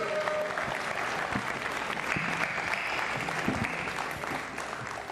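Audience at a boxing press conference claps steadily for several seconds, a dense patter of applause heard at moderate distance with no voices on top.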